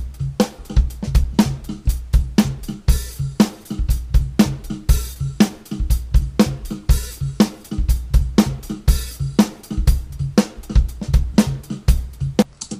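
Drum beat loop built in GarageBand, with punchy kicks, snares and hi-hats repeating in a steady driving rhythm at full volume, with no speech.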